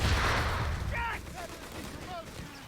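A heavy boom of mortar fire in a Company of Heroes match opens the moment, followed by a fading rumble as a caster talks over it.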